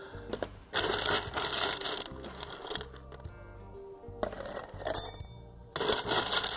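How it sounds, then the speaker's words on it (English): Ice cubes tumble and crunch into a glass as a gin cocktail with mint and grapefruit is built, three loud clattering bursts with rattling and clinking between them, close up with no talking. "Then we'll throw some ice."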